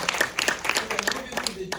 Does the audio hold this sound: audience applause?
yes